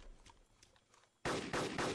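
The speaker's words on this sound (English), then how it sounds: "Another nice sniper rifle shot here." A sniper rifle fires in a first-person shooter: faint background noise, then an abrupt, loud, close report followed by a few more sharp cracks in quick succession.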